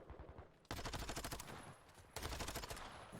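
Rapid automatic gunfire in a Call of Duty esports match, two sustained bursts of close, loud rattling shots separated by a brief pause, with sparse gameplay sounds before the first burst.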